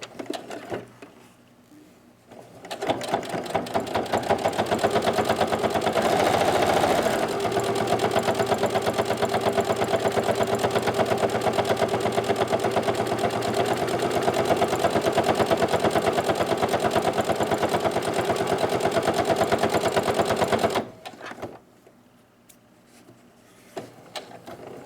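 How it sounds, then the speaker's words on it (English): A sewing machine stitches along fabric mask ties. After a soft start, a rapid, steady mechanical whir runs close and loud for about eighteen seconds, then stops abruptly, leaving a few quiet handling sounds. "you're gonna go ahead and stitch along that closer to the open edge of the tie"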